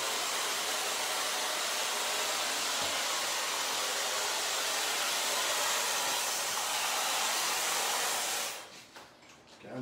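A hair dryer roars steadily at close range while curly, freshly permed hair is dried at the root, a constant broadband whoosh that cuts off near the end.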